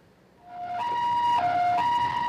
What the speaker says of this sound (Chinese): 接到校方的通报，救护车赶来